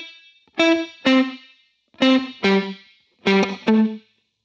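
Guitar notes played through a Line 6 Helix dynamic plate reverb with the low end cut, six plucked notes in pairs, each leaving a thin, bright reverb tail that fades quickly into silence.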